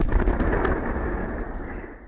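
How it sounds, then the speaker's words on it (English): A single blast at a Russian airbase, picked up by a CCTV camera, gives a loud, muffled boom that rumbles and fades over about two seconds. "An explosion at a Russian airbase."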